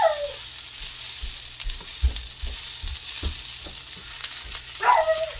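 Shrimp fried rice stir-fried in a pan, a steady close sizzle with rhythmic low knocks of a utensil against the pan and a couple of brief scraping swells at the start and end.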